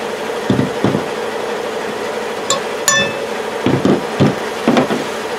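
A hammer strikes a Speedi-Sleeve on a Dana 44 axle to crack it off, giving sharp metallic blows in small clusters with a couple of bright clinks among them, close and loud over a steady background hum.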